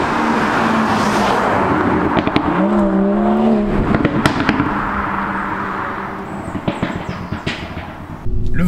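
A BMW 340i Performance accelerates hard in sport mode, with loud exhaust crackles and pops over a rising engine note that climbs and then falls, heard close up.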